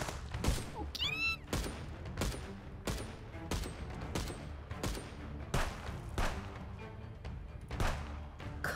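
Gunfire crackles through a shootout in the Contraband Police video game: loud, sharp shots repeat at a steady rhythm about every half second, with a brief whistling sweep early on and no voices.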